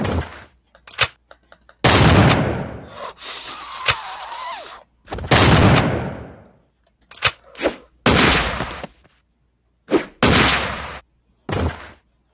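Gunfire in Madness Combat Nexus sounds as loud, separate bursts of shots with short silences between them, some long and rattling and some brief single pops, with no voices over them.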